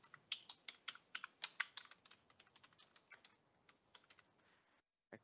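Quick, light keystrokes on a computer keyboard come in an irregular run of clicks, busier at first and then thinning out, quiet and close with a brief silence before one last tap.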